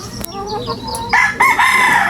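A rooster crows loudly and close by in two strong bursts at a backyard breeder's, after a few scattered clucks and rustling sounds.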